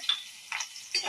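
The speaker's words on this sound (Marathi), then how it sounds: "कढीपत्ता टाकूया." Curry leaves dropped into hot oil for a tempering over cucumber salad, giving three short, bright sizzling bursts that fade quickly, with quiet gaps between them.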